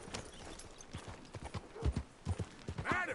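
Horse hooves clip-clop at a gallop in the Red Dead Redemption 2 video game, a fairly faint rapid rhythmic thudding under game ambience, ending with a brief whinny-like sound.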